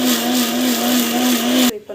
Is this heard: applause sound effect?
no